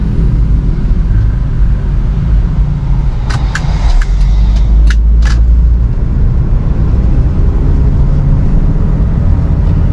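Steady low engine and road rumble from inside a moving Toyota Kijang Krista with an automatic transmission and 2000 cc engine, a continuous drone with a few faint clicks midway and no talk.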